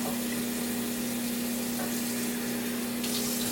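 Hot water poured into a pot of cooking genfo, Ethiopian porridge, a steady rushing, splashing stream under a constant electrical hum, with no talking.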